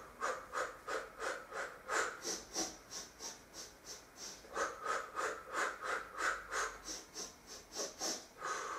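Steady rhythmic breathing during a floor Pilates class, with close, airy inhales and exhales alternating in an even cycle of roughly two breaths per second, soft and hissy with nothing else over it.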